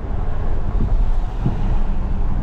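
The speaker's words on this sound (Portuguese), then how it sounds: "Pensa num ronco gostoso desse V8ão" Mercedes V8 engine droning in a low, continuous growl with gusty wind noise over it. The level swells slightly now and then, and no one speaks.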